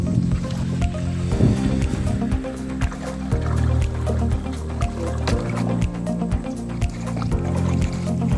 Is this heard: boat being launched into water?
yes